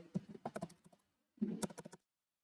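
Computer keyboard typing in two quick bursts of clicky keystrokes separated by a short pause, close and clear with no talking.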